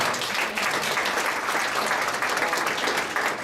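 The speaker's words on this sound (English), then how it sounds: "So just another round of applause" Closing an evening lecture, a crowd claps in a thick, even stream of applause, loud and continuous from start to finish with no voices over it.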